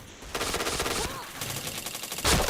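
Rapid video game gunfire comes in dense automatic bursts with brief gaps, loud and close, ending in a sharp burst.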